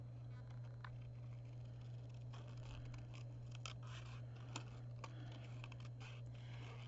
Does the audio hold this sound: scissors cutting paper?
yes